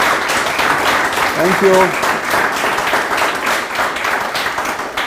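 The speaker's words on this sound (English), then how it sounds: "I invite also to join a round of applause for this in-person discussion." Continuous audience applause at an in-person political discussion forum, even and steady throughout, with a brief spoken voice over the clapping.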